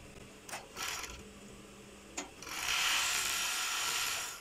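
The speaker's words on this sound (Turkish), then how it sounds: "Şimdi buraya overlock'umuzu çekelim güzelce." After a few light handling taps and rubs of fabric, an overlock sewing machine whirs steadily along a dress seam, a close, fast, even buzz lasting about two seconds.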